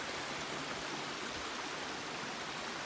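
Creek water flowing steadily past ice collected along its banks, a constant broadband rush with no gaps, heard close at moderate level during a day hike.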